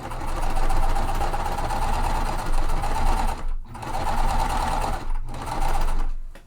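A domestic sewing machine stitching the next section of a lemonade-themed quilt: a steady, fast mechanical hum and rattle, running in several bursts with short pauses between them, close and clear.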